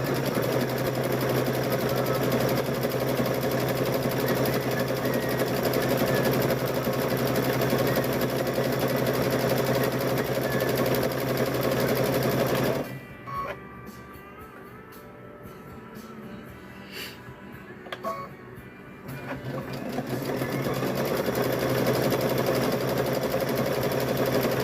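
A sewing machine runs steadily and loudly, stitching around the edge of a fabric bowl cover, then stops for a quiet pause with small handling sounds before the motor starts up again.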